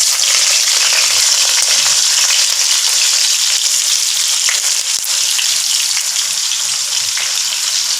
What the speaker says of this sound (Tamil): இப்போ நான் வெங்காயத்தை போடுறேன்